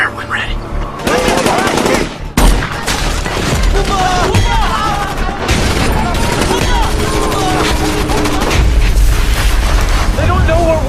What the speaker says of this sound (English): We're receiving small arms and indirect fire from hostile troops.